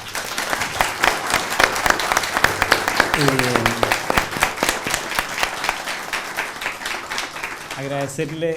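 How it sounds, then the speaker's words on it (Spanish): An audience at a public justice dialogue applauds the invited guest, a judge, with loud, sustained clapping close by, and voices and a few cheers break through the noise. "pedirle un fuerte aplauso para nuestra invitada"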